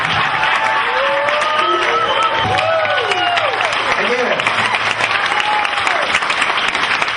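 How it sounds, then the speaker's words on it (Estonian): A festival audience at an Estonian jazz festival applauds in a loud, steady wash of clapping that lasts throughout, with a voice carrying faintly over it. "minu poolt veel üks suur aplaus"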